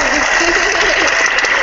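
Applause sound effect played during a crafting livestream finale, a short dense burst of crowd clapping filling the moment at full volume.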